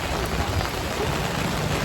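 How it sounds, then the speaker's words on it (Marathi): Heavy rain pours down steadily in Mumbai in a dense, loud hiss that fills the whole clip without pause. "पाऊस इतक्या जोरात सुरू झाला"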